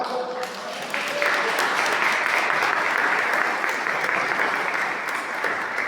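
A church congregation claps together in dense, steady applause that swells after a brief quieter start and keeps going evenly, close and full, with no voices standing out above the clapping.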